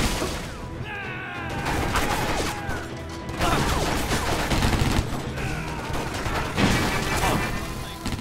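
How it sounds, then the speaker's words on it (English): A heavy machine gun from the video game Stranglehold fires in dense, sustained bursts, loud and close, with crashing impacts mixed into the rapid gunfire. "As soon as you get the heavy machine gun in this level, everything becomes a lot easier."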